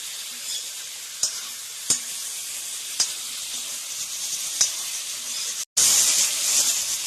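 Pork sizzling steadily in a hot pan, broken by a handful of sharp scrapes and knocks as it is stirred. The sound cuts out briefly, then resumes louder and brighter.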